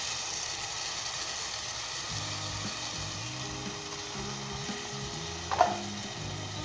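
Soaked chana dal tossed into a pan of frying vegetables gives a steady, fairly soft hiss, with low droning tones underneath and one brief clack near the end.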